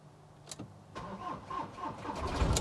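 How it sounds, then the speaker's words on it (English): A crashed, damaged VW T6 Caravelle turning over and firing up, the starter cranking briefly before the engine catches and settles into a rising, steady running rumble close by, with no talk. "we'll give this a couple more minutes and hopefully it will start up"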